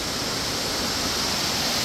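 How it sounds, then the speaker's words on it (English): The McCloud Middle waterfall, a 50–70 foot fall in McCloud, California, roars as a steady, loud, broadband rush of falling water close by, uninterrupted and with no voices. "This is a beautiful waterfall"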